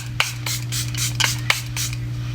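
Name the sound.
makeup setting spray being sprayed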